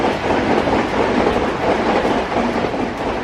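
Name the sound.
running train on rails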